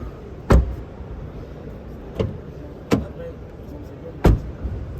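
Doors on a 2022 BMW 2 Series Active Tourer shut with four separate solid thuds, spread irregularly over a few seconds, against a quiet background.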